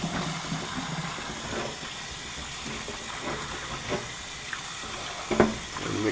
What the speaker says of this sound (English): you go ahead and give it another rinse with the potatoes